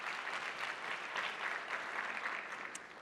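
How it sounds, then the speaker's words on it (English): An audience at a women's business conference claps in a dense, even round of applause, moderately loud and steady, fading slightly at the end. "Big round of applause for the brave souls that came up here and put themselves out here."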